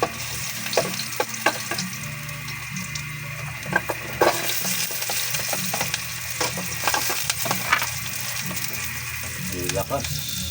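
Udon noodles sizzle and fry in a hot pan, a busy crackling hiss punctuated by stirring clatter and scraping, loud and close, with brief bursts of louder spitting as ingredients hit the oil.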